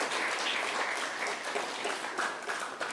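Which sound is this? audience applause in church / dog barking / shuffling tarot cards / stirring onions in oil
audience applause in church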